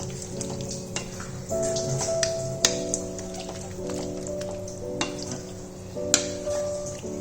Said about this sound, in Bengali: ঘিটা দিয়ে এবার ভালো করে এটার সাথে আমি মিশিয়ে নিচ্ছি।